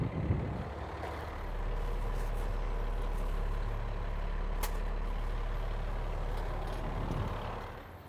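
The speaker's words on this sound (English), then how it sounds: "I'm going to start the truck" A propane delivery truck's engine starts with a short burst, then settles into a steady low idle rumble that holds nearby, with a brief sharp click partway through.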